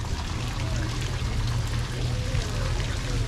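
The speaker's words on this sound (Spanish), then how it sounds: "Fuente, qué bonita. Mira, agua. Hay agua, mi amor." Water pours and splashes steadily from a town fountain in La Esperanza, Intibucá, Honduras, a constant close rushing wash with a low rumble beneath it, alone throughout.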